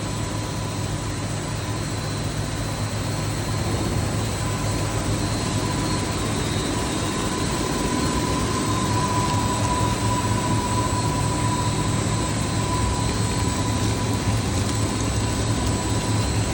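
Sorting equipment for cleaning dried raw material, a hair sorting machine, runs with a constant loud mechanical hum and broadband whirring, steady throughout with no pauses and no voices.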